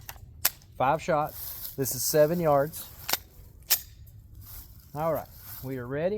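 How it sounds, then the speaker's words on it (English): SAR 9T pistol fired at a target 7 yards away, giving a few sharp, loud shots spaced apart, with someone talking between them. "So I'm going to shoot the left dot with the SAR. 5 shots."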